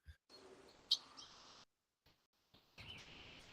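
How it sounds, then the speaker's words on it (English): A stock birds sound effect with short bright chirps and tweets, some sharp single calls against a faint background, in brief bursts separated by near silence. "We'll search birds."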